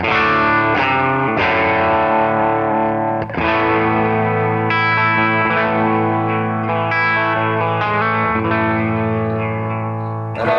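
Electric guitar chords and notes played through a Morning Glory light blues-breaker-style overdrive pedal, a mildly overdriven, slightly gritty tone ringing out with sustain and some chorus-like shimmer.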